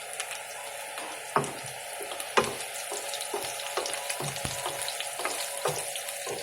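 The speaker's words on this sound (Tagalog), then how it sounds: "Sunod na po natin yung ating sibuyas." Onions frying in a pan for an Ilocano-style dish give a soft continuous sizzle, punctuated by sharp metallic spatula knocks and scrapes at irregular intervals, with no voices.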